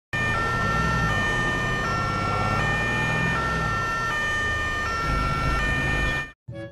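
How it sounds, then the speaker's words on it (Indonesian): A toy ambulance car plays its electronic siren, a loud steady two-tone wail that alternates for several seconds before cutting off abruptly. "Di sini ada mobil ambulans."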